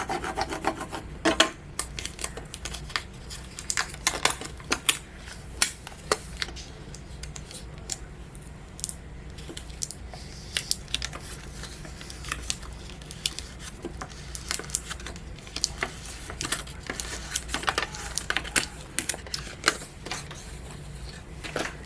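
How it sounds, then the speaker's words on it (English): Plastic scraper tool rubbing vinyl down onto a surface, a close, steady scratchy rasp of repeated strokes with sharp ticks and no talking. "we're going to be using our scraper tool to make sure that it's good and on there"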